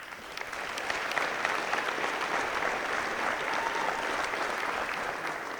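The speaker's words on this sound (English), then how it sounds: "That is worthy of a round of applause there." Steady applause from a crowd at a high school boys' basketball game fills the whole stretch, dense and even, many hands clapping at once with no voices standing out.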